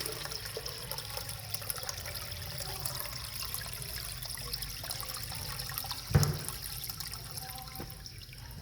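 Water runs and trickles steadily, a soft continuous flow with faint drips, and a brief knock partway through as it drains away.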